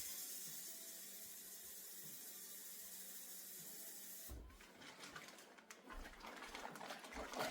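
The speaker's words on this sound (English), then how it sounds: "I'll take this over to my sink and add some more water." Tap water running into a home sink while making wine: a steady, soft hiss that turns after a few seconds into louder splashing and gurgling as the stream hits water, close, with no talking.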